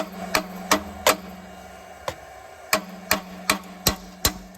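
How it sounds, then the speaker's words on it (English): Hammer pounding a stuck bolt on a BMW E46, about ten sharp metallic strikes in uneven rhythm over a steady background hum, close and loud. "It's not coming off. Alright. Let's pound it."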